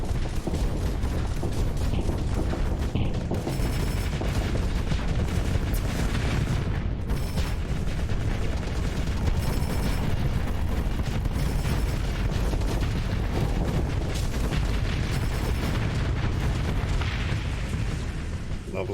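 Loud, sustained rumbling blasts and booms from space combat in Starsector, dense and continuous with repeated bursts layered over a heavy low roar.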